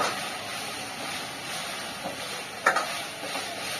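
A pan sizzles on medium flame in a hotel kitchen, a soft continuous frying hiss with a brief metallic clink near the end, fairly close and without talk.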